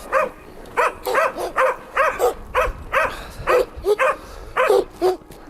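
Hunting laika dogs bark at a kennel in a quick, uneven run of close, loud barks and yelps, around a dozen in a few seconds.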